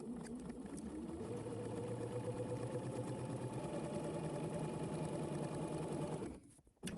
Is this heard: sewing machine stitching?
yes